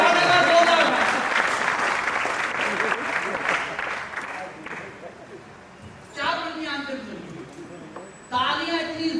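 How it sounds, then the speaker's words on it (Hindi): Audience at a university poetry gathering bursts into loud clapping that fades after a few seconds, followed by someone speaking in short phrases. "तालियां इतनी जोरदार बजाना"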